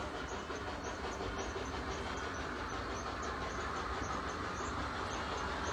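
A westbound train rolls past along the shoreline at Old Saybrook, a steady, loud rumble with rhythmic wheel clatter and faint high squeals, continuous and close for several seconds.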